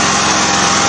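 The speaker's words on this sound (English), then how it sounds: "brand new engine" New engine running in a homemade gasser, a steady high-pitched buzzing drone with a rapid, even firing pulse, loud and close throughout.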